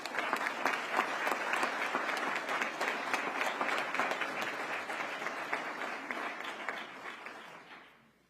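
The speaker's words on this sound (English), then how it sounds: "Give her a round of applause." At a police community relations awards ceremony, the audience gives a sustained round of applause, dense and even at moderate distance, slowly tapering off before ending.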